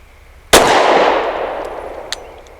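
A single loud, close pistol shot from an Avidity Arms PD10 firing Federal Punch 124 grain jacketed hollow points, with a long reverberating decay and a faint metallic clink afterward.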